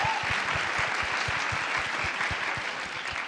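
Steady audience applause at a motivational talk, dense and continuous clapping from a crowd, fairly close and loud throughout with no talking over it.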